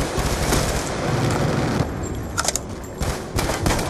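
Dense, continuous fire from auto turrets in Call of Duty Black Ops 2, a loud sustained rattle of rapid shots with a few sharper bursts near the end, heard alone without talk.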